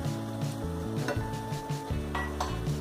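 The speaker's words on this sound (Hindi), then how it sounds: "देखिए पूरी मलाई अच्छे से इसमें हम मिक्स कर देंगे अब।" Carrot halwa being stirred in a pan as cream and milk are mixed in, with soft scraping and clinking of a spoon against metal over a low bubbling sizzle, close and steady with no speech.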